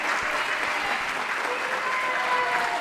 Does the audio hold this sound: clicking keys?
no